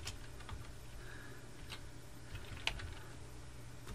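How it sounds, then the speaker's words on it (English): Typing on a computer keyboard to enter a new worksheet tab name in Microsoft Excel, a quiet run of light key clicks with one sharper tap near the end, close and alone. "Now I'm going to type in my new name."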